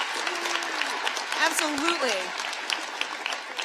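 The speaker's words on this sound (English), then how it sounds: "yes, clap for him." Dense, steady clapping from an audience at a political policy event fills the room, with a speaker's voice over it and a few cheers rising from the crowd.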